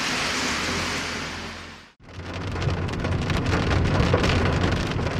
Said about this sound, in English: we were safely on our way, despite the pouring rain